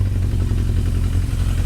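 Japanese motorcycle engine running close by, a steady low rumble with slight clatter and no clear rise in pitch across the short stretch.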